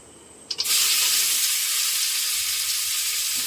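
Chopped onion dropped into hot oil with whole cumin in a pan, bursting into a loud, steady sizzle right after a couple of sharp clatters, holding strong and even to the end.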